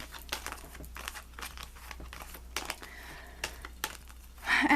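Tarot cards are shuffled and picked by hand, giving soft crinkling and papery slides with small taps spread through the clip, near and fairly quiet. A louder rustle comes at the very end.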